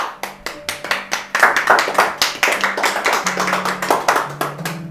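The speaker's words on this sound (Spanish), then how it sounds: "Vamos a dar un aplauso a Dios." A church congregation clapping together in a steady, rhythmic beat, crisp and close, over sustained musical tones, with no voices.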